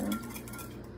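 Salt brine for fermenting zucchini is stirred in a container, with soft clinks and scraping of a utensil against the vessel over a quiet room hum, heard alone without talk.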